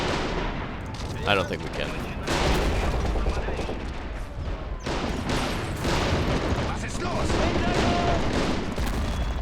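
Dense volleys of battlefield gunfire and booms from the World War II strategy game Men of War: Assault Squad 2, loud and nearly continuous with overlapping bursts, while a player talks over the din.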